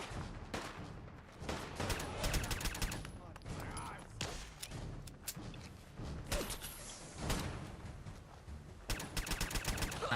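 Rapid bursts of gunfire crackle through a Fallout 4 firefight in foggy weather, with dense volleys of sharp shots in irregular clusters and brief lulls between them, while a voice talks quietly underneath.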